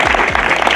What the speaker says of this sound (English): We need to give them a hearty clap as they come.